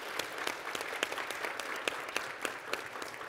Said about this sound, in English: let's give Elisa a round of applause